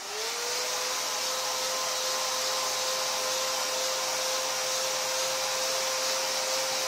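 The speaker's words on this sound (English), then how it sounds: "I'm going to help that along again with my hair dryer" A hair dryer blows steadily to dry fresh paint on an RC car body. Its whining motor holds one constant pitch over a loud airy rush, close and unbroken after a quick start.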